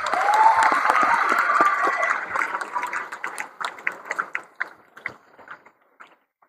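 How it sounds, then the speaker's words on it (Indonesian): Hundreds of santri at a motivational seminar at Pondok Pesantren Darunnajah 14 in Serang, Banten applaud in a dense burst that thins into scattered individual claps and fades out. "Berikan tepuk tangan antum untuk Nusantara"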